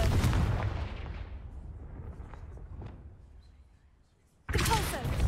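A Confringo spell blast in Hogwarts Legacy erupts as a loud booming burst, then decays into a fading rumble before a second heavy blast hits abruptly near the end.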